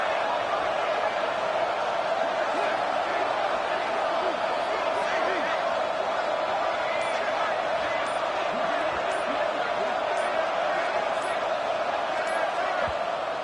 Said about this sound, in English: this crowd rises up to try to make it tough